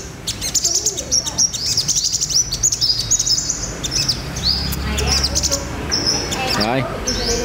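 Sunbirds chirp repeatedly in an aviary, a busy, close stream of high, thin tweets and trills layered over one another with steady outdoor background noise.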